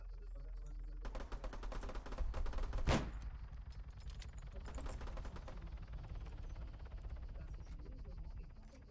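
Automatic gunfire from a weapon in the video game Arma, set on Altis, crackles in rapid bursts at low volume, with one sharper loud shot standing out partway through.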